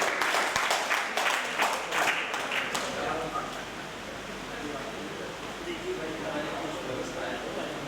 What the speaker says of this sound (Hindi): आप सब लोग तालियां बजाकर उनका जोरदार स्वागत करें